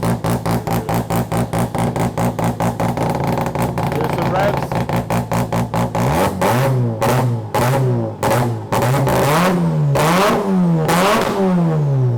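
A Mazda RX-7 FC rotary engine runs up close in a tuning shop, a loud, choppy, pulsing idle that breaks into repeated sharp revs rising and falling, with a voice heard briefly.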